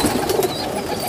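A Teddy pigeon, a high-flying breed, gives a short burst of soft, low, close coos while feeding its chick.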